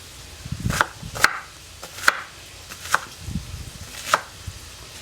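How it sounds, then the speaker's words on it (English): Walla Walla onions being chopped with a knife on a board, with five or six crisp, distinct knocks spaced unevenly and heard alone and close. "So we're going to chop this up and get that sauteing in a separate pot."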